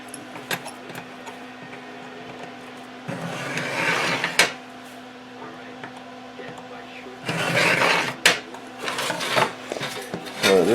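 Snips from tin snips cutting a sheet metal heat duct, with two louder bursts of metallic cutting and crinkling near the middle and end, set over a steady background hum, nearby and moderately loud.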